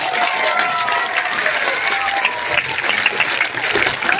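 A crowd at a political rally claps loudly and continuously, dense applause with some cheering and voices mixed in throughout.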